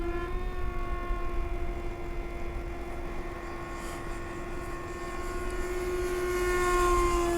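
Electric ducted fan of an RC Flite Test Viggen jet, a 70 mm six-blade fan on a 4S battery, drones with a sustained high whine from a distance, rising slightly in loudness near the end.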